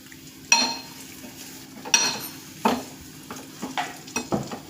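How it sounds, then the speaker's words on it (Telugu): Maggi noodles stirred with a spoon in a hot pan: a few sharp metallic scrapes and clinks spaced out over a soft background sizzle, with quicker, lighter strokes toward the end. "స్పూన్ ఉందిగా కలుపు. ఇప్పుడు కలుపుదాం."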